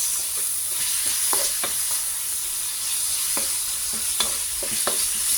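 Chicken pieces hit a hot pan and fry for pancit, giving a steady close sizzle broken by scraping stirs and sharp clacks of a utensil against the pan.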